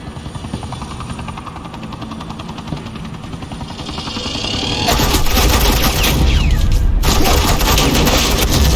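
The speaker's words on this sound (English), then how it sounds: "suppressing fire" Suppressing gunfire rings out in a Batman video game, with sustained automatic fire and a thudding rotor-like drone. It swells louder about halfway through and briefly cuts out near the end.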